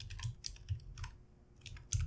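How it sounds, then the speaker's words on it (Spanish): Quick typing on a computer keyboard while filling in a database in Excel: a close, irregular run of clicky keystrokes with brief pauses between bursts. "voy a hacerlo más rápido con el teclado"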